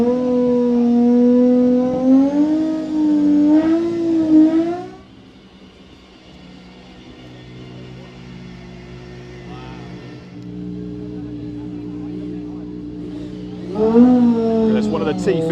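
A high-revving Gordon Murray T.50 supercar engine roars close by, drops away as it moves off, then another engine note rises loudly again near the end.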